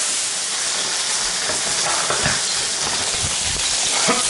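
Onions and garlic sizzling in a hot pan, a steady broadband hiss of frying with occasional louder spits and stirring scrapes, close and continuous with no talk.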